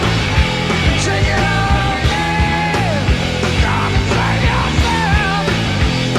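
A singer sings a song live, pushing into a high, raspy screamed note over a dense, loud rock band with driving drums and distorted guitars.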